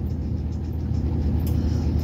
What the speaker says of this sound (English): I don't know what's going on in the city, but it's traffic everywhere.